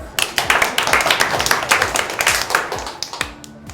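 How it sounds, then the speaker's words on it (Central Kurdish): Classroom applause from schoolchildren at Tavga school, a bright irregular patter of many small hands clapping steadily for several seconds, then tapering off near the end. "زۆر سپاس چەپڵەیەک"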